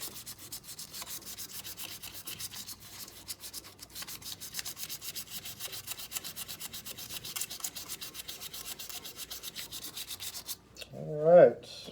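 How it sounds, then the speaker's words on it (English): Steady back-and-forth rasping of sandpaper on wood, continuous and close, ending with a brief louder scrape. "A little bit of manual sanding on it just to see what we got."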